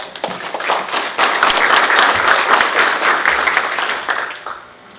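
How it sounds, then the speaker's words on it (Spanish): An audience at a water-themed conference gives a warm round of applause, dense clapping that swells quickly, holds steady for several seconds and then fades away. "Recibamos con un caluroso aplauso."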